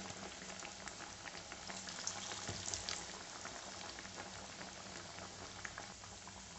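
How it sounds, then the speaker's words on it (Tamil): Vada lentil fritters frying in hot oil, a soft, continuous bubbling and sizzling with scattered faint pops, steady and fairly quiet throughout with no talking. "வடையை எப்பொழுதும் போட்டதும் திருப்பி விடாதீங்க ஒரு அஞ்சு நிமிஷம் வேகட்டோன்னு"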